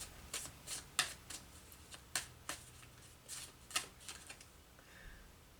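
Marquetti Tarot Royale tarot cards being shuffled close up, a series of crisp riffling snaps and flicks in an uneven rhythm, fairly quiet and with no talking.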